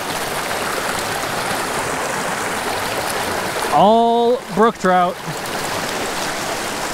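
A mountain creek where brook trout are being fly fished with a tenkara rod rushes steadily and evenly from start to finish. Someone speaks briefly over the water noise partway through.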